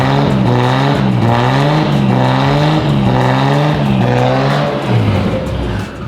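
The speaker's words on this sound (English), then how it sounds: "going to give it a rev" Modified JDM car with a new turbo and exhaust revving continuously up close, its loud engine note swelling and falling in repeated blips without pause.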